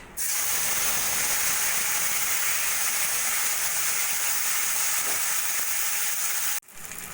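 Tomato, ginger, cashew and dried chili paste dropped into hot oil with bay leaves, cardamom and cinnamon, erupting into a loud, dense, continuous sizzle that holds steady before cutting off near the end.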